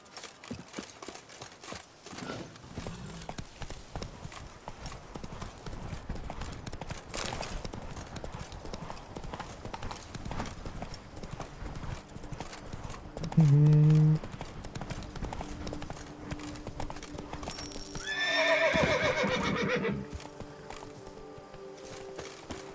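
A horse named Roach trots along with steady, clear clip-clop hoofbeats that run throughout, a brief whinny near the end, and faint voices in the background.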